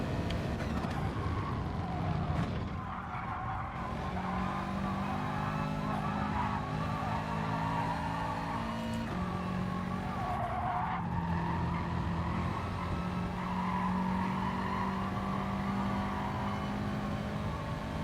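A Subaru race car in the Gran Turismo Sport racing game drives hard with its engine droning steadily and its tires squealing and skidding through corners, loud and continuous throughout, with no talking.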